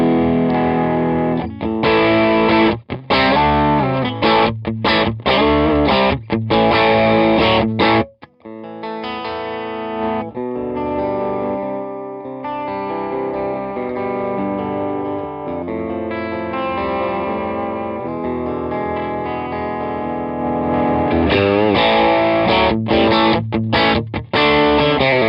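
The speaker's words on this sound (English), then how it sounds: "Volume up and get a little distortion." Electric guitar through a Chellee Odie overdrive pedal plays loud, gritty chords and single notes with a slightly crunchy tone, strummed in bursts with brief pauses.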